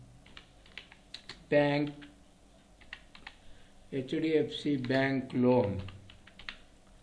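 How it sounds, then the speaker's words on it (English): Light clicks of typing on a computer keyboard while entering ledger details in Tally Prime accounting software, soft and intermittent beneath someone talking. "So you have to type HDFC"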